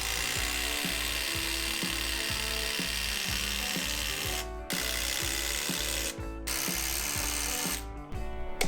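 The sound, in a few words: power driver fastening screws into old wooden floor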